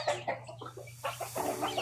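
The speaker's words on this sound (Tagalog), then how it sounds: "Yan tol pangtari na manok." A nearby gamecock clucks in a quick series of short, throaty notes, with a low steady hum underneath.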